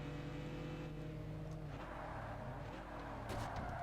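A Subaru's engine in the Forza Motorsport racing game hums and revs continuously, shifting in pitch mid-race, fairly faint and steady with no talking.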